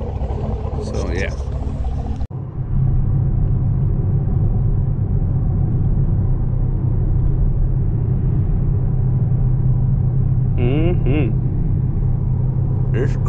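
A 5th gen vehicle cruises down the road with a steady, close engine and road rumble, a sharp thump early on, and brief voice sounds over the drone.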